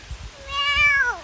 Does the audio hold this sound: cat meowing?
yes